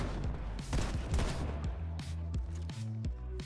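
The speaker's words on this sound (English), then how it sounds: "Oh, wait, the auto shotgun's still in the game?" Auto shotgun firing in the Fortnite video game, a quick run of sharp blasts at an irregular pace with a few heavier booms toward the end, fairly quiet overall.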